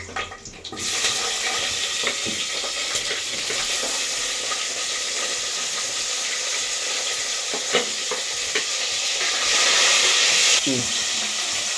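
Onions fry and get stirred in hot oil for mutton biryani, a loud, steady, close sizzle with scraping and stirring clatter throughout.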